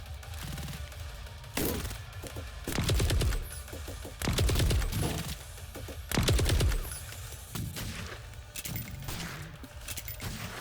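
Sniper gunfire salvo in the video game Reverse Collapse: Bakery Girl, heard as several loud, sharp bursts of shots in clusters spaced a couple of seconds apart over a steady battle background, with no talking.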